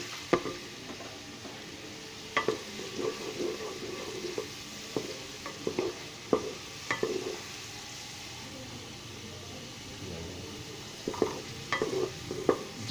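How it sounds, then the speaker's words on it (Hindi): Garlic and onion frying in a pan, a soft steady sizzle with scattered clinks and scrapes of stirring, fairly quiet and close. "इसको मैं अच्छे से भून के ताकि इनका कच्चापन ख़त्म हो"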